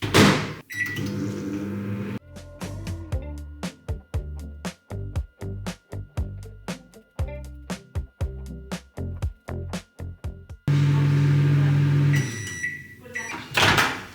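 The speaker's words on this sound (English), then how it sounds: "we are going to turn that on for 5 minutes to steam the microwave" Beeps and clicks of buttons being pressed, then a microwave oven starts a 5-minute run to steam its interior for cleaning, with a steady low hum and door and handling sounds around it.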